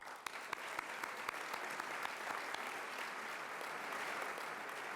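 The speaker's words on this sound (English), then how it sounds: "Can we have a round of applause for them?" Crowd at a reception kickoff event claps steadily for two honorees, a dense, even wash of applause with a few sharper individual claps near the start, sustained throughout.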